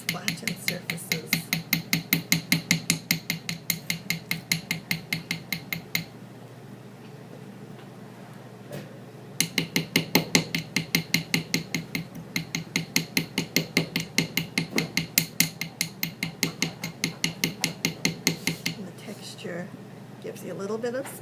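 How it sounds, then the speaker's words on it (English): Rapid, steady metallic taps of a ball-peen hammer texturing flattened wire for a spiral ring, in long runs, pausing briefly midway before resuming at the same brisk rhythm, with a voice speaking over them. "use the ball end of the hammer to make a little bit of a texture on those flattened surfaces"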